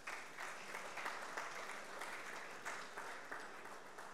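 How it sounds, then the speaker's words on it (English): Attendees at a corporate governance certification ceremony in Nigeria clap for themselves, producing a sustained, even wash of applause from a large audience, heard at moderate distance and fairly soft. "May we please give ourselves a round of applause"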